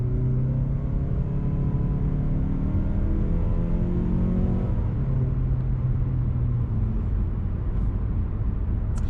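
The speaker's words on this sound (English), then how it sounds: "So we'll get our first good acceleration in. This will be a non-sport mode acceleration." A 2020 Mazda CX-30 engine rumbles loudly from inside the cabin as it accelerates in non-sport mode, its pitch climbing steadily through the gears.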